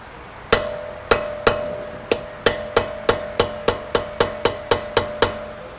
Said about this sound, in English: it'll give your hammer and chisel something to bite to. Put it in, give it a good whack.